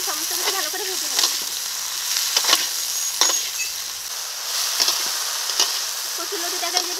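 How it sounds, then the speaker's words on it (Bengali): Taro stolons frying in a pan with puti fish, turmeric, salt and slit green chillies, a steady close sizzle broken by repeated scraping stirs throughout. "এখন সমস্ত কিছু ভালো করে ভেজে নেব।"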